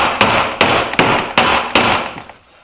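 A wrench strikes a metal body panel backed by a piece of wood, five loud, close, sharp bangs at an even, roughly once-per-second rhythm, each ringing briefly before fading out.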